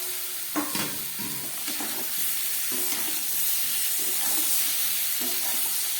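Boiled jackfruit is dropped into spiced masala frying in a pan for a vegetarian curry, bringing a close, steady sizzle broken by repeated stirring and scraping clatters.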